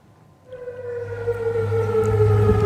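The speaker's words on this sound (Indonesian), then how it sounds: "Sirene meraung di kota aman" Air raid sirens wail over Amman, Jordan, rising in after a quiet moment into a loud, sustained tone that keeps swelling, with no voices.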